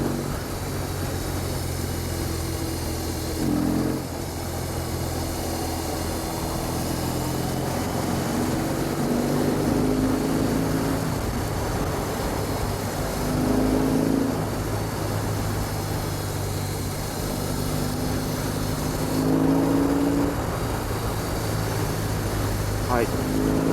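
A BMW R18 First Edition motorcycle engine drones steadily on a highway, its pitch rising in several rev surges after a downshift to fourth gear, with someone speaking throughout.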